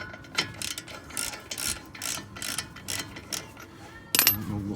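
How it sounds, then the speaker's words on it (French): A ratchet wrench loosening the large bolts on an Audi Q7 front brake assembly, rapid repeated clicking in short bursts, close and moderately loud, ending with a sharp metallic clink. "finir ça à la clé à cliquer."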